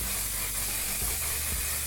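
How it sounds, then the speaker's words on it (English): Makeup setting spray misted from a bottle, heard as a continuous close hiss lasting about two seconds with no talk. "setting spray."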